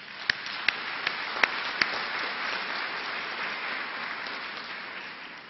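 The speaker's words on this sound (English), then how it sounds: "please give yourselves a round of applause" Sustained applause fills a hall at a university autumn graduation ceremony, with a crowd clapping steadily and a few sharp, louder claps near the start.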